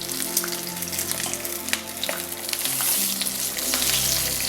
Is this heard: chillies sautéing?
yes